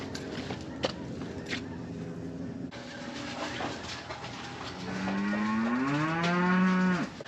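At a barn, a cow gives one long, loud, rising and falling moo near the end, after quieter farmyard shuffling and rustle.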